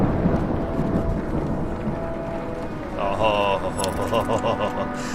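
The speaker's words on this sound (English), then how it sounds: "Good thunder and lightning show definitely makes my day." Thunderstorm rain and rolling thunder in the video game The Banner Saga, a steady dense wash with low rumbles throughout, later joined by brighter tonal game sounds.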